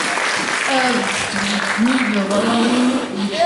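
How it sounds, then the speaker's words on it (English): Audience applause at an anime convention panel, a broad steady wash of clapping with voices and cheering mixed through it for the full stretch. "Can we get another applause for this?"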